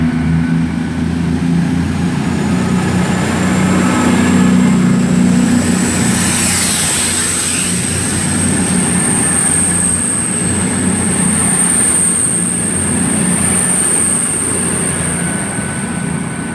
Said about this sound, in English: departing out now is a 1026 cross-country service to Paignton